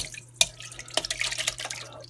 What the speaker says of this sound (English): I'm just draining them off in a colander